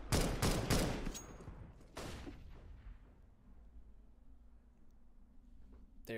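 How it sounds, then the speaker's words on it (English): Rapid shots from an auto sniper rifle in Counter-Strike on the Dust2 map: about five loud, sharp cracks in the first two seconds, then a low fading tail. "Hampus firing off that auto sniper of his"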